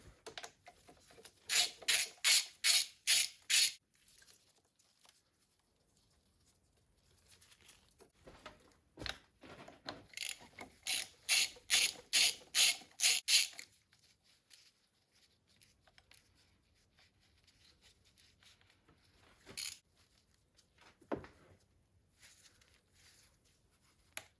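A ratchet undoes 10mm bolts while a Citroen Saxo VTR is serviced, giving two bursts of rapid clicking ratchet strokes with quieter rubbing and handling noises between.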